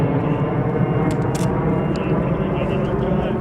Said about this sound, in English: we'll wait for that plane to pass